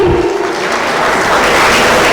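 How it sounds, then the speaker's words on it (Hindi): A crowd at an International Women's Day event claps for a speaker, giving a loud, continuous wash of close applause over the short stretch. "छाया मैडम प्लीज तालियां हो जाए प्लीज इनके लिए।"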